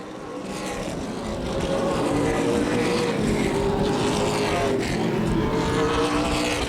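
ARCA/CRA Super Series race cars roaring past on the short oval at Shady Bowl Speedway during the 2012 125-lap event, a loud, dense engine wash swelling as the pack passes, with an announcer's commentary running beneath.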